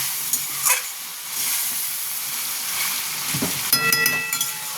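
Tomato curry sautéing in a pan gives off a bright continuous sizzle and hiss, with occasional stirring scrapes and a few clinks near the end, and no voices.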